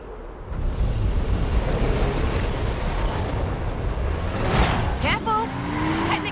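A Hot Wheels car in Forza Horizon 5 roars into motion, a loud continuous engine and road rumble with rising whine toward the end, voices talking over it.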